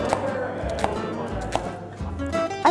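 A kitchen knife dices an onion on a cutting board during a pasta ragù cooking class in Florence, giving a few sparse, crisp chops over a murmuring room.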